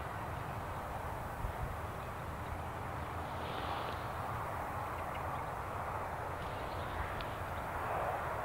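An airliner departs Newcastle International Airport, giving a continuous far-off engine roar that stays level and fairly faint, with a slight swell near the end and no one talking.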